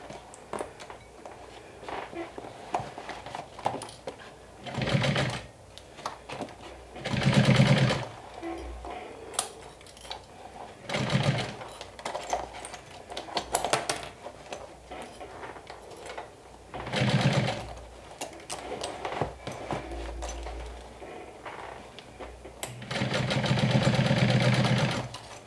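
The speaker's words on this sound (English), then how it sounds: "So this will also stitch down the handle, at least on one side" Sewing machine stitching down the handle of a fabric wine bottle bag, several separate runs of fast mechanical whirring with quiet pauses between, close by and moderately loud.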